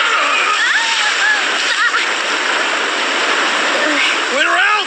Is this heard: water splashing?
yes